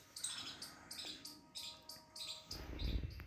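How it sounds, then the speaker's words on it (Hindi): Small songbirds chirp and tweet in a quick repeated series of bright calls, moderately close, with no talking and a faint low rumble underneath. "संगीत जैसे पक्षी ये चहचहा रहे हैं"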